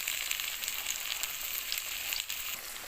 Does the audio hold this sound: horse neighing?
no